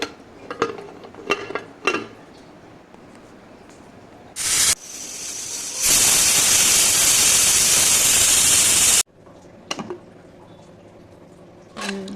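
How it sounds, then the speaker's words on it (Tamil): Scattered clinks of a pot and utensils, then a sustained loud hiss of coconut milk chicken curry bubbling and steaming for a few seconds before cutting off. "சிக்கன் குழம்பு நல்லா கொதிச்சிச்சு."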